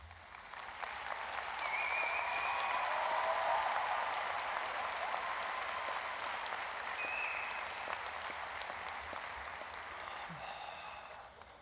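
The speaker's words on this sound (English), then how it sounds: "that round of applause for the deans and faculty were, in your vernacular, lame" A large commencement crowd applauds steadily as deans and faculty stand, the clapping swelling and then slowly tapering off, with a few faint voices mixed in toward the end.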